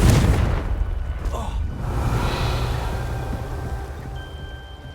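A Confringo fire spell bursts in the Hogwarts Legacy video game, one heavy booming explosion right at the start that rumbles and slowly fades, with a shorter whoosh after a second and a faint tonal chime near the end.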